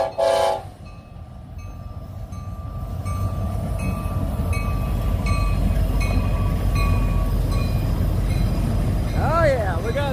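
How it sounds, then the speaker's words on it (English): An eastbound Union Pacific maintenance train loaded with rail rolls past on a cold day, a loud, steady rumble and rattle of cars close by that builds and holds for most of the pass, with a brief horn or squeal near the end. "we got a eastbound maintenance train with a"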